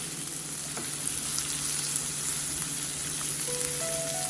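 Onion, green chilies and curry leaves sauté in oil in a pan, giving a steady, close sizzle with soft crackles and a faint scrape of stirring throughout, no voices.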